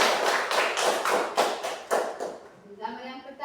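Children in a classroom clap in unison with a few sharp, rhythmic rounds that fade out after a couple of seconds, followed by a brief trailing sound.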